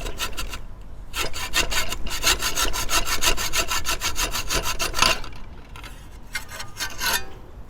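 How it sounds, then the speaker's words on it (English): A hand saw cuts through the carbon fork steerer of a Specialized S-Works Tarmac, stroking back and forth in quick, steady rasping passes at close range. The cut pauses briefly and then resumes for a few final strokes, with no talking. "just to make sure that when the saw goes through, I'm supporting this bit so that it doesn't tear off."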